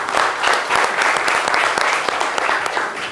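Brisk studio audience applause, a steady, full crackle of many hands clapping at close range with no talk over it.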